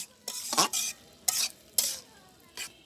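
A spoon stirs a thick bottle gourd curry (lau ghonto) in a pan in several short scraping strokes, close by, over a faint sizzle, with no voices.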